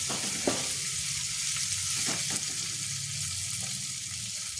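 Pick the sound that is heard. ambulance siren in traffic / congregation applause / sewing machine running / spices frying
spices frying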